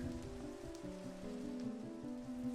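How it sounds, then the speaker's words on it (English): Rain falling in the video game Minecraft, a steady soft patter with faint in-game tones underneath, quiet and continuous with no talking. "Goodbye, rain."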